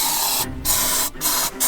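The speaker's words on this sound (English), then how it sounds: "I'm gonna spray it till it dies and keep an eye on it" Aerosol spray can sprayed at a spider inside a camper van, heard as loud hissing bursts separated by two short pauses.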